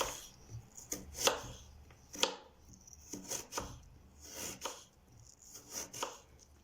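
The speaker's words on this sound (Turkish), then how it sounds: "Şu şekilde patateslerimi incecik incecik doğrayalım." Repeated close knife cuts thinly slicing potatoes on a cutting board, a steady series of crisp slicing taps with quiet pauses between, no voices.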